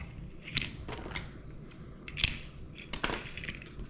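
Fishing leader line is snipped off with a cutter, giving a few crisp, close clicks and snips over a low steady background hiss, without talk.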